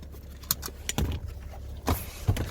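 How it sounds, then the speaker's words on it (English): Rear fold-down headrests in a 2014 BMW 330d M Sport Touring (F31) drop into place with a few close mechanical clunks and a brief whir, spaced across a couple of seconds. "you've got the fold up headrests, which basically can be stowed away like that"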